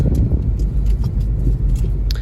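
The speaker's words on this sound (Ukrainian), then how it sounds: "Ой, трафік у нас, бачите, продовжується все це." Steady low road rumble of passing traffic, with cars swishing by and faint scattered clicks, no voices.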